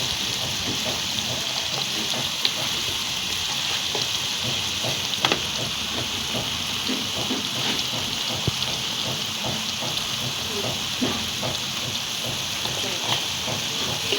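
A spiced dish with garam masala sizzles steadily in a pan while being stirred, a continuous frying hiss with small scraping ticks throughout.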